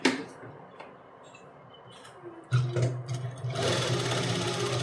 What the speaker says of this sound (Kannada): ಗ್ಯಾಪ್ ಕೊಟ್ಕೊಂಡು ಫುಟ್ ಲೆವೆಲ್ಗೆ ಸ್ಟಿಚ್ ಮಾಡ್ಕೊತಾ ಬರಬೇಕು